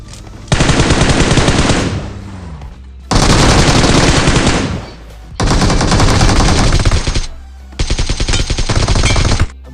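Loud, sustained automatic gunfire from a BGMI squad fight, coming in four long bursts of rapid shots separated by short pauses, with no talk over it.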